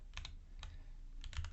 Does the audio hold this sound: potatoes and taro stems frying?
no